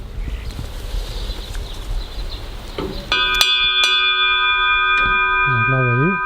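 A metal ship's bell is struck, then struck again, each ring clear and loud with a long, sustained decay. Faint French speech comes before it, and a voice at the end.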